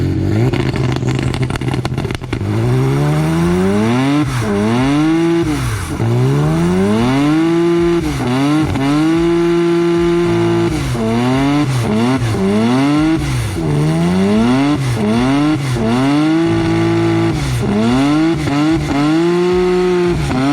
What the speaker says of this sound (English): that is the blow off valve working properly